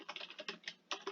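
A computer keyboard clacks as a command is typed in Minecraft Java Edition, a quick run of about a dozen soft, close keystrokes in an uneven rhythm with a short pause near the middle, no voice.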